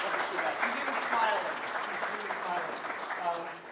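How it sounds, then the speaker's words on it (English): A congregation applauds after a baptism by immersion, a steady wash of clapping with voices talking and cheering over it, moderately loud and continuous. "Let's give her a round of applause."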